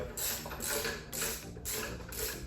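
A ratchet loosens the tensioner bolt on a Nissan SR20VE engine in a 1991 Sentra B13, heard as several rhythmic bursts of close, crisp clicking separated by brief pauses.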